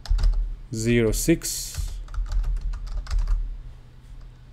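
Rapid clicking keystrokes on a computer keyboard as a terminal command is typed, following a brief burst of a man's speech at the start; the typing is close and steady.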